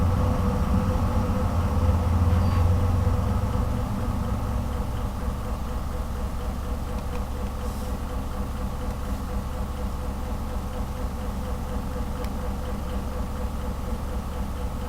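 Train Simulator locomotive running slowly toward its wagons at about five miles per hour, a steady diesel engine drone with a low rumbling hum throughout and faint clanks, loud and continuous.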